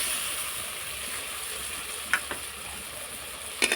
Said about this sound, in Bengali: এবার আমি দিয়ে দিচ্ছি ধনে জিরে বাটাটা, দিয়ে নাড়তে থাকবো।